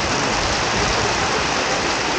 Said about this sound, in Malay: Dia lebih ke bunyi hujan tu.